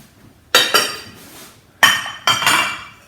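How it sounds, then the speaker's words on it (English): A see-through microwavable glass dish is set down and handled on a kitchen surface, four sharp clinking knocks in two close pairs, each ringing briefly before fading, close and clear with no talk. "A see-through, microwavable dish."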